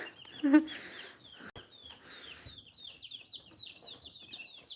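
Baby chicks cheep in a series of high, thin peeps that run through the clip, with a louder cluck-like call near the start and some quiet background noise.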